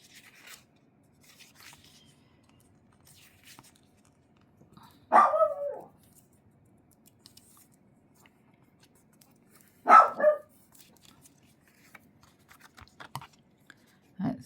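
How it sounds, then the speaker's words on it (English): A dog indoors barks at a storm outside, two loud separated outbursts a few seconds apart, with a quieter bark at the end and near-silence between. "the dog has decided that he needs to bark at the storm"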